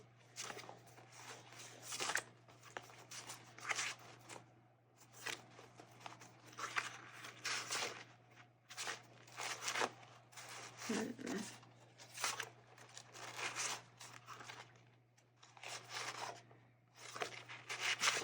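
Paper craft materials for a Christmas planner are shuffled and handled close up, with soft rustles, crinkles and brief tearing-like scrapes in irregular bursts over a faint steady hum and occasional talk.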